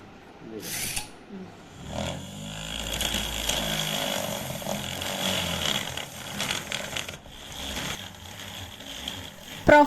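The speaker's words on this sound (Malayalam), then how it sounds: "ഇനി ഇതിലേക്ക് ചക്ക് കൂടി ഫിറ്റ് ചെയ്തിട്ട് ഒന്ന് ഡ്രിൽ ചെയ്ത് നോക്കാം" A handmade portable electric drill with a chuck fitted runs in a buzzing, whining motor drone that rises and dips over several seconds, close by, with some talking mixed in.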